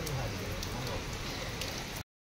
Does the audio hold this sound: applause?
no